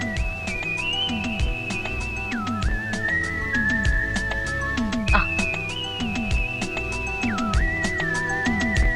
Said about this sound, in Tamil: ஒரு ஐயா மேல இருந்து வந்து விசில் அடிச்சாரு